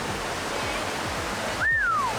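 Heavy pouring rain in Kandy, Sri Lanka, a loud continuous rushing roar like running water, with low rhythmic thumps underneath and a brief rising-then-falling whistle or squeal near the end.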